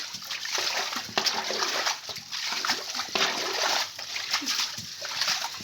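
Water poured outdoors on a village ground in bursts, splashing and spattering loudly up close in several uneven surges.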